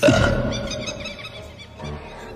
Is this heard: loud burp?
yes